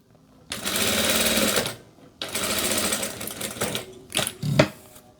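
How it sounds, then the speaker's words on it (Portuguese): A sewing machine stitches the narrow tip of a seam in a dressmaking atelier, running in two steady bursts of about a second each, then a few short stuttering stitches at the end, close and alone. "vou costurar aqui a pontinha"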